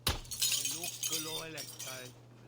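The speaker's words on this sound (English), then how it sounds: "Apparently they're not alerted by the sound of breaking glass." A glass window breaking in an Assassin's Creed game: a sharp, bright shatter at the start with tinkling shards, followed by someone talking.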